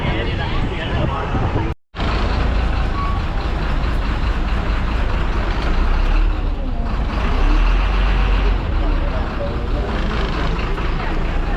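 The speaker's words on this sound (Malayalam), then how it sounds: "അപ്പം നമ്മളെ ബസ് പുറപ്പെട്ടു." A city bus pulls out of Koyambedu bus stand in Chennai with a heavy diesel engine drone and traffic noise, while voices chatter around it on board.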